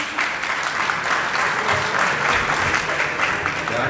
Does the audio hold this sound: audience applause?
yes